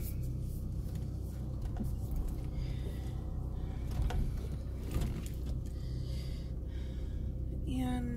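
Car driving along a road, heard from inside as a steady low rumble of road and engine noise, with breathing and small movement sounds close by.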